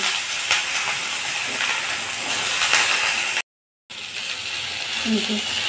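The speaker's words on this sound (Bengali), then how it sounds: "একদম লাল লাল করে ভেজে নিয়েছি।" Pointed gourd sizzling with turmeric and salt in a pan: a loud, dense, steady frying hiss that breaks off for a moment midway, then resumes.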